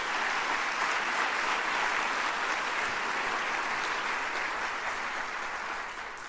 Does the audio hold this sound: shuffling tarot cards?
no